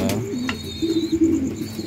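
King pigeons coo in low, repeated throaty pulses close by, with a brief bird chirp in the background.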